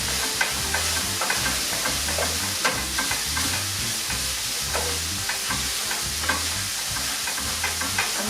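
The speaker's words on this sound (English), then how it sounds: "Give that a stir." A pan of sausage ragu with oregano stirred as it fries, a steady close sizzle under rhythmic scraping strokes of a spoon through the mixture.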